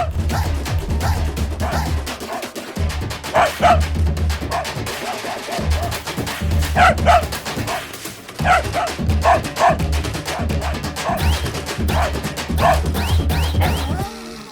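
A dog barks several times in short clustered bursts, fairly close, over a steady low background bed in a scene from a South Indian horror comedy film.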